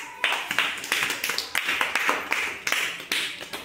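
Children in a classroom clap together in a quick, steady rhythm of broadband claps, fairly close and moderately loud, with faint voices underneath.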